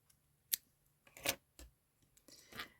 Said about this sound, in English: I chain 1 and I cut my working yarn